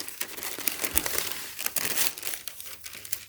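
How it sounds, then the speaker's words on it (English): Tissue paper is pulled from a Nike Sacai Blazer Mid sneaker box right beside the mic, giving a steady run of crisp, close crinkles and rustles with a few sharper crackles. "so I'm gonna take the tissue paper out"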